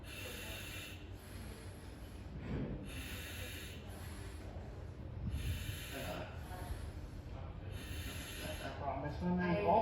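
Slow, heavy breaths drawn through a breathing apparatus mask during a negative pressure test, rasping inhalations and exhalations repeating every couple of seconds, close and fairly quiet, with a faint hiss from the mask.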